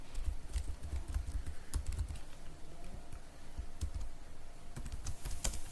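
Quiet, quick taps on a computer keyboard come in irregular bursts, close and faint against a soft background hiss.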